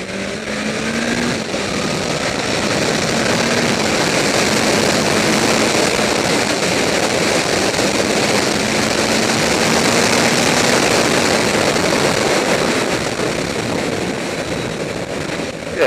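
A 2014 Suzuki GSX1250FA motorcycle accelerating on a road test, its engine a loud, steady, broadband roar mixed with heavy wind rush that holds throughout without any speech.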